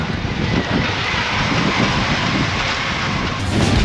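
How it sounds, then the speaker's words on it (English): Strong desert wind at King of the Hammers off-road racing, a continuous loud roaring rush buffeting the microphone with no break. "When this wind gets blowing, man, you get so much sand and stuff going in your eyes"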